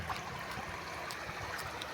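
A mountain stream flows out of hillside terrain, a faint, steady rushing and trickling with small gurgles throughout, heard alone without talk.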